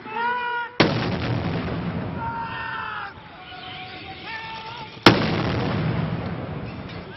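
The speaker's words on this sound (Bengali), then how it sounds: "সেনাবাহিনীর আর্টিলারি শাখার একটি চৌকস দল ৩১ বার তোপধ্বনির মাধ্যমে স্বাধীনতা দিবসের আনুষ্ঠানিকতা শুরু করে" Army artillery firing a 31-gun Independence Day salute at the Mirpur cantonment firing ground, with two sharp, booming cannon reports several seconds apart, each followed by a lingering rumble, as a voice speaks in the background.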